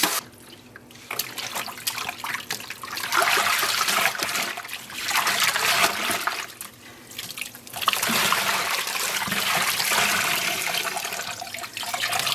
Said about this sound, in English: Let's wash this yarn.